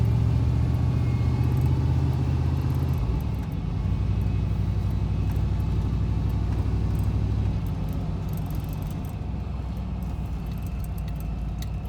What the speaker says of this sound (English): As I drive down the street with the flasher on.